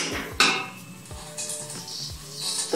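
A metal cooking pot clanks and scrapes as boiled peanuts are stirred in it, used in place of a large wok while making bakcang; repeated irregular metallic knocks and scraping, close and fairly loud, with a faint sizzle beneath.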